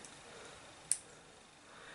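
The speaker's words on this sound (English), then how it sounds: "a stout pair of scissors," A stout pair of scissors snips through a flexible PCB RGB LED (NeoPixel) strip, giving a single sharp, close cut amid quiet room tone.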